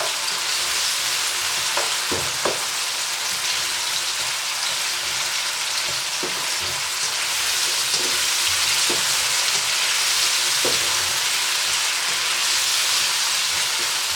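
Seasoning for ackee and saltfish sizzles hard in a pan on high heat, a loud continuous fry with a few faint utensil taps and no talking.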